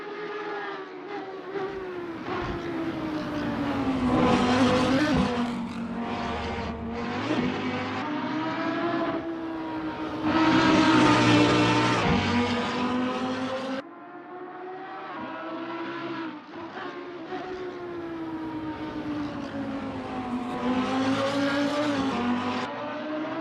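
A Lamborghini Huracan GT3 in a racing video game roars down the Kemmel Straight at Spa, its engine note loud and steady with rising pitch through gear changes and brief shifts, continuous throughout.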